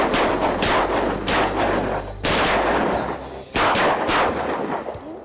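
Shotgun blasts during a duck and goose hunt, several loud close shots fired in quick bursts with short pauses between volleys, each crack trailing off outdoors.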